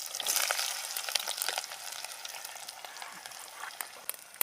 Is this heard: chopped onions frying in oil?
yes